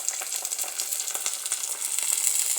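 Ginger garlic paste frying in a pan for mutton curry, a close, steady bright sizzle and crackle with soft stirring texture, continuous and fairly loud with no talking.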